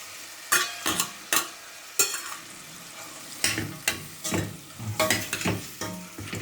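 Liver frying in a pan while being stirred, with a steady sizzle broken by repeated loud scraping strokes of the spoon at uneven intervals, close up and with no talking.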